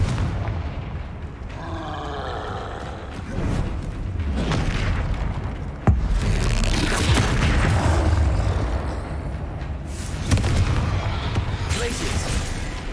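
Confringo blasting spells go off in Hogwarts Legacy as a string of booming explosions and bursts amid game clatter, with a voice talking over much of it.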